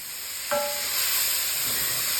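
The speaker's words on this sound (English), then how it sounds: "While I'm having my veggies saute with the thyme" Vegetables sautéing with thyme in a pan for lemon chicken orzo soup, a soft steady hiss and sizzle close by, lifting a little after a brief clink, with no talking.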